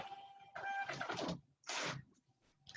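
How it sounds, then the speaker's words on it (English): A small Rollo thermal label printer runs close by as it prints a shipping label, giving a whirring feed in two short bursts with a brief pause between them. "I'm going to use my little Rollo printer over here. You're going to hear it print"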